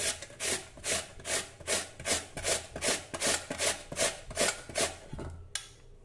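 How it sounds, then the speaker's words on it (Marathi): Raw peeled potatoes grated on a hand grater, a close, steady rhythmic rasp of about a dozen even strokes, each a scraping swish, ending with a brief clatter. "सर्वप्रथम किसणीवर आपण बटाटे किसून"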